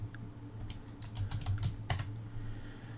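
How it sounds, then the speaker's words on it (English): A command typed on a computer keyboard: a quick run of soft, close key clicks in an irregular rhythm over a low steady hum, ending with a firmer keystroke. "you're going to type in the command list disk"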